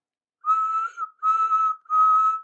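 Steam engine whistle sounding three times in a row, each a clear, sustained tonal blast of about half a second with short gaps between, loud and close against silence.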